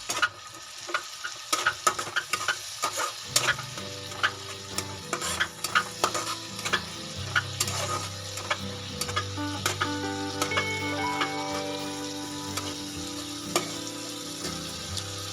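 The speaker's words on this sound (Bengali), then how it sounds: "ভালো করে কষিয়ে নেব" Chicken curry fries in a pan, a constant sizzle punctuated by frequent sharp clinks and scrapes of a spatula stirring and tossing, close and busy throughout.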